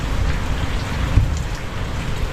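Light rain falls steadily over a vegetable garden where eggplants grow, a continuous soft hiss of drops with no voices, fairly close and even in level throughout.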